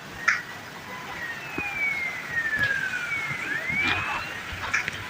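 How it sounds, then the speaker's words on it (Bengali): A police car siren in the video game Indian Bikes Driving 3 wails in one long falling-then-rising sweep, fairly clear over low background game noise. "পুলিশের গাড়ি মনে হয় চলে আসছে"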